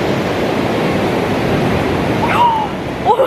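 Ocean waves wash up on a sandy beach in a steady, broad roar of surf, with a brief voice and splashing near the end.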